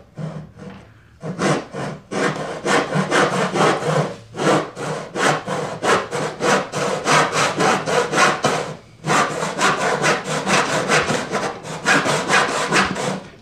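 A hand saw cuts through red oak for dowels in steady, rhythmic back-and-forth strokes, loud and close, with a brief pause near the middle before the strokes resume.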